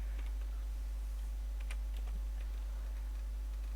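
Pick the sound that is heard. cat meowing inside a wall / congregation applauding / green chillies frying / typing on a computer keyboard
typing on a computer keyboard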